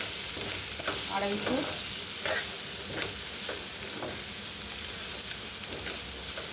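Gobindobhog rice and dal being stirred and fried together in a pan for khichuri, with scraping stirs recurring about once a second over a continuous close sizzle.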